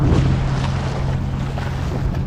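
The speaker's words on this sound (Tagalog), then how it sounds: "Ayan, taas ng alon." High sea waves and wind buffet a ship at sea, a loud, steady roar with low rumbling and splashing surges, no talking.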